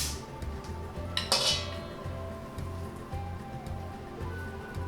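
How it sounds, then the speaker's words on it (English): Sourdough sandwich bread dough is moved into a bigger bowl, bringing a quick clatter and clink of bowl and utensils over a soft, steady scraping and rustle. "now I'm going to put it in this bigger bowl"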